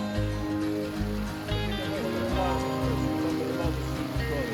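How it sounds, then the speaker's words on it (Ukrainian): Steady rain in the Carpathian mountains patters and hisses on surfaces, with faint voices and low rumbling underneath. "Напевно більше як годину лиє дощ."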